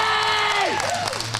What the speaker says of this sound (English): I'll let you hear the crowd.